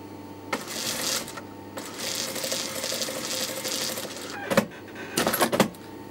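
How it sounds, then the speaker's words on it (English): An overlocker serger runs along a fabric seam in bursts of fast, buzzing mechanical stitching, starting and stopping several times with short pauses and a few sharp clicks near the end. "with the overlocker, with the serger."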